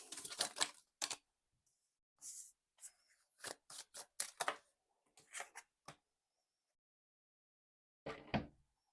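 Tarot cards are handled and shuffled close by, making quick papery riffles and soft slaps in irregular clusters separated by quiet pauses, with no talk.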